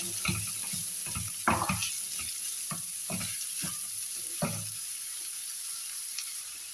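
Chopped onion frying in a pan for rava upma, a steady sizzle with repeated scraping stirs of a spatula, close and continuous, no voices.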